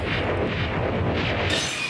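Cartoon laser gun blasting in an animated ghost-hunting skit, a dense sustained burst of noisy zapping that stays loud for two seconds and ends with a sharp high-pitched flare.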